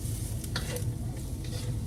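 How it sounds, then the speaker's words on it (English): Onions and fennel sauté in a pan with a soft, constant sizzle while a spoon stirs and scrapes a few times close up, no voices present. "you wanna cook until the onions are translucent and the fennel begins to soften."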